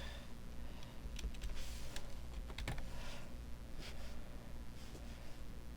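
Typing on a computer keyboard while entering text for a snow effect in Adobe After Effects, with scattered faint key clicks over a steady background hum and no talking.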